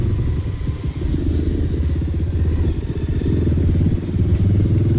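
A 150cc motorcycle engine runs steadily up close, its low, throbbing idle rumble holding constant and loud for the whole stretch.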